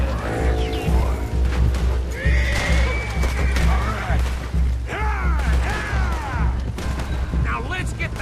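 Horses whinny and neigh repeatedly in Red Dead Redemption 2 during a gunfight escape from a town, loud and close, with shouting voices and a dense, busy game soundscape running underneath.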